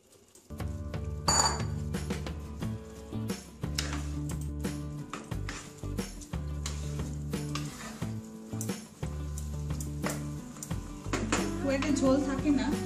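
Soybean chunks go into a hot pan for a homemade soya chilli chicken dish. A loud sizzle flares up, and clinks and scrapes of a utensil against the pan follow, with a voice talking over the cooking.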